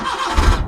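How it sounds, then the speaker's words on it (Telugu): A Maruti Omni manual van in original condition with about 50,307 km fires up on a single self-starter crank. A short, close burst of low engine rumble builds quickly and settles into idle. "స్టార్ట్ చేసిన సింగిల్ సెల్ఫ్లో వెహికల్ స్టార్ట్ అయిపోయిందండి"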